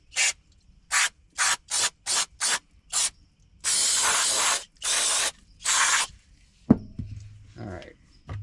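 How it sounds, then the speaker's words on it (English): Aerosol brake cleaner blasted from a fresh can during rear wheel cylinder work on a 1951 Packard: a string of loud, close hissing bursts, short ones first, then longer sprays, ending with a clank of metal parts. "New can of brake clean. I need to clean a few things off."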